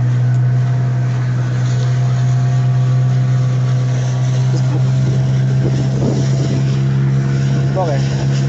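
Boat engine on a search-and-rescue operation after a water accident, droning loud and steady at close range with wind noise, while people talk over it.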